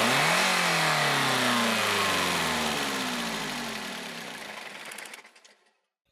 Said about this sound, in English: Rapidly increase the engine speed, turn off the engine electronics, but keep the throttle open until the engine stops completely.